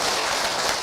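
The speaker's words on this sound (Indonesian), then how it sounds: "Banten, tepuk tangan untuk orang Banten" Dense, continuous applause from a crowd at a religious gathering, acclaiming people from Banten, loud and close across a very short burst.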